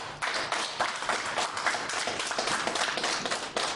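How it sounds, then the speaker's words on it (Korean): An audience at a Vietnam veterans' association inauguration ceremony claps steadily, a dense, even wash of applause from many hands in a hall. "이분들에게 여러분 박수 한번 쳐주십시오."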